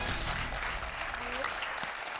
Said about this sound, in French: on vous applaudit en coulisses